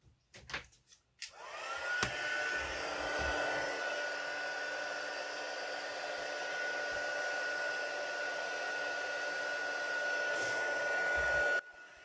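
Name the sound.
heat tool blowing for heat embossing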